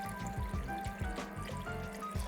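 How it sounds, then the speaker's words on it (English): Water trickles slowly into a butter roux for a chicken and mushroom fricassée, a quiet, steady pour heard faintly and close with no voices. "we add the liquid slowly in the beginning"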